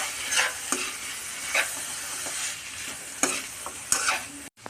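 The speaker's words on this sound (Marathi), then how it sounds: "तर वांगे बटाटे थोडं 2 मिनिटं परतून घेऊ आपण।" Eggplant and potato pieces sauté in a pan, sizzling softly while a spatula stirs and scrapes them in several separate strokes, close and fairly quiet, with no talk.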